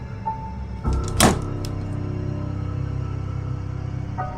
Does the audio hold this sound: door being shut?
yes